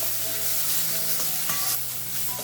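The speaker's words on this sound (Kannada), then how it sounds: "ಟೊಮೆಟೊನು ಸಾಫ್ಟ್ ಆಗೋ ತನಕ ಇಲ್ಲಿ ನಾವು ಇದನ್ನು ಫ್ರೈ ಮಾಡ್ಕೋಬೇಕು" Tomatoes and curry leaves fry in a pan for brinjal gravy, with a steady, close sizzle and occasional scraping stirs running throughout, no voices.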